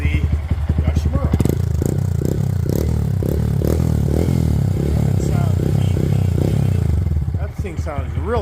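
Honda Grom motorcycle fitted with a Yoshimura exhaust, idling and revving loudly up close with a throbbing, rasping note, while someone speaks over it.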